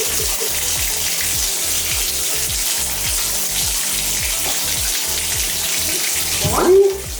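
Tap water runs steadily in a sink or tub while cats get their first bath, a continuous hiss with a brief splash and a short voice near the end.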